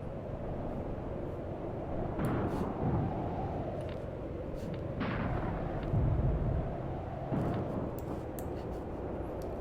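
Shots fired at a trench in Graviteam Tactics: Mius Front ring out over a steady low battlefield rumble, with a few sharp reports and booms, two of them in close succession.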